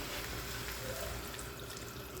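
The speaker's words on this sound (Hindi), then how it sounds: "केचप के लिए टमाटर में मैं यहाँ 1 कप पानी डाल रही हूँ" Water poured from a cup onto tomatoes in a pot while making homemade ketchup, a steady continuous splashing stream lasting the whole moment, fairly quiet and close.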